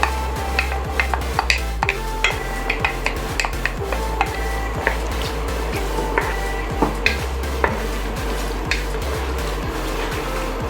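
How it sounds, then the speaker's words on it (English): Tomatoes and meat fry in a pan, giving a steady sizzle with repeated scrapes and clinks of a utensil stirring against the metal throughout, no voices. "So we allow our tomatoes to fry for about 5 minutes"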